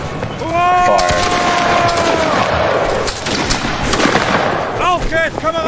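Musket volley fire in a Napoleonic line battle game, with a ragged burst of many shots cracking near and far under shouted voices, and a drawn-out rattle of fire following.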